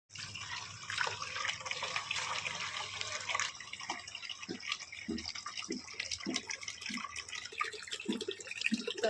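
Tap water runs steadily into a vessel in a village home, a continuous splashing wash with small irregular drips and knocks over it, close and fairly loud, with no talk.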